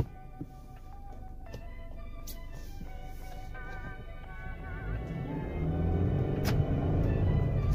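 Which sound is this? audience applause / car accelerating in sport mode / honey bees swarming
car accelerating in sport mode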